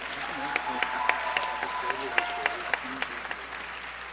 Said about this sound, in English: Can I please request another round of applause for Vidhi?